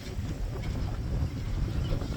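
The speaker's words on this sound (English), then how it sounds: "So it's getting really windy." Strong wind gusts buffet a microphone outdoors by a garage, a steady low roaring rumble filling the whole stretch with no clear breaks.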